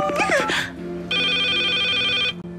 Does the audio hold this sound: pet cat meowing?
no